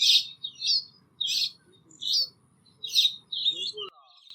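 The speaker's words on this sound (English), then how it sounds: "The Asian glossy starlings gather on the branch to savor their breakfast." Asian glossy starlings calling from a tree branch, a series of bright, repeated chirps and squawks in short bursts, close and clear, over a faint low background hum.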